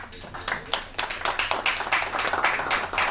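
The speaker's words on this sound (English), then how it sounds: "Can we please give him a round of applause?" An audience applauds their chairman, Professor Ahmed bin Salahuddin, at a Dubai real estate advisory event: a few dozen hands clapping steadily and fairly close for about three seconds, with some murmured voices underneath.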